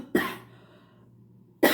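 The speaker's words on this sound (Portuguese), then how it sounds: "Desculpa aí a minha tosse." Two sharp, close coughs from a speaker during a Portuguese Bible talk, separated by a second and a half of quiet room hum.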